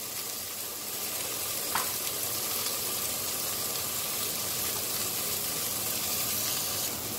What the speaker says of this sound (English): After adding the ginger garlic paste, just cook it for some time on a slow flame.